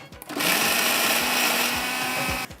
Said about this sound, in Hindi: टमाटरों को मैं इसमें डालती हूँ ग्राइंड करने के लिए